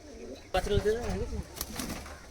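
A pair of teddy pigeons cooing close by, a short burst of warbling, throaty coos after a brief quiet start, with a few softer coos and faint rustling following.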